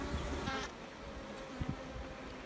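A low, steady hum of honey bees buzzing close by around a small queen-rearing hive, soft but continuous, with a few faint bumps and no voices.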